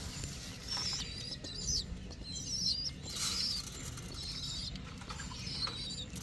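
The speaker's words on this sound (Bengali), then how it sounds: "ওই জোড়া কবুতর একদম ছোট এটা বড় হয়ে গেছে" Pigeons chirp and flutter nearby, with soft cooing and a few wing flaps over a constant low background hum, fairly faint.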